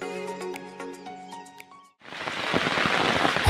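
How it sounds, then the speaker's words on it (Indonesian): Heavy rain pours down in a tropical rainforest on a mountain, a dense, steady hiss that swells in after a stretch of tonal sound and continues alone, loud and close. "Hujan mulai turun dengan deras, membuat tanah licin dan udara semakin dingin."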